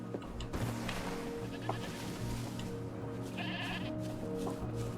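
Goats bleat in the video game Wuthering Waves, several cries over a steady low ambient music bed, with a brighter tonal chime near the end.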